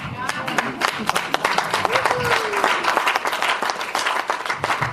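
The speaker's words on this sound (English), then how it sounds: "Clap as though you're clapping for me." A lecture hall audience at an institute talk bursts into lively applause, dense sharp hand claps close and loud, with a faint voice woven through.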